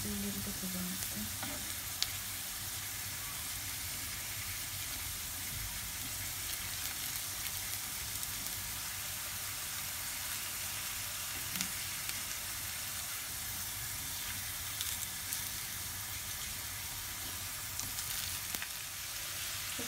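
Potatoes sizzle and fry in a pan as they are turned over. A dense, continuous crackle and hiss runs throughout, close by and steady, with faint scraping of the turning and no talking.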